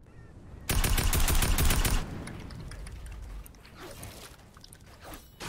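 A golden tactical assault rifle fires in a shooter video game. One loud rapid burst lasts about a second, followed by quieter game ambience and faint scattered sounds.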